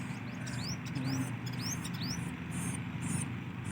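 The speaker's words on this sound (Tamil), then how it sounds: "மூணு குருவி இருக்குங்க" Sparrow chicks in a nest giving several short, high, rising chirps in quick bursts, faint and close, over a low background hum.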